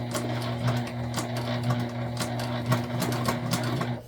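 A sewing machine hums steadily and close as it stitches a multi-panel tote bag, with a faint rhythmic ticking of the needle running through the whole stretch.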